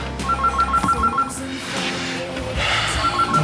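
A telephone rings in a domestic scene from a German TV soap, with repeated electronic trill bursts sounding clearly and steadily over faint room noise.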